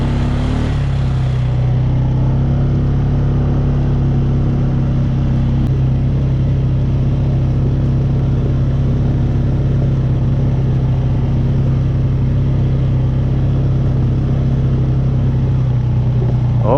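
An ATV quad engine chugs steadily up a steep mountain trail in British Columbia in four-wheel-drive low, a loud, constant low drone close by that runs without a break.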